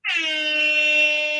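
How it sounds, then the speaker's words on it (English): A loud, sustained air horn blast with a sharp onset, holding steady for over a second with no talking. "Hit that air horn."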